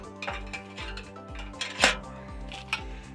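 Metal pan stand pieces drop into a homemade biscuit tin stove, making a series of light clinks and clatters, with one louder metallic clang near the middle, close and without speech.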